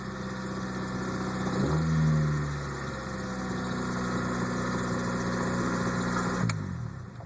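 A 1994 Honda Accord engine cranks and catches, briefly revs, then settles into a steady idle close by, with a sharp click near the end.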